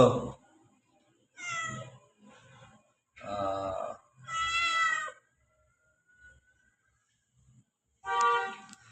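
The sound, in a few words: cat meowing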